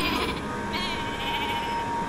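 Sheep bleating in the video game Flockers, a steady game soundtrack running underneath with a wavering bleat-like tone that rises around midway and carries on to the end, moderately loud, no talking.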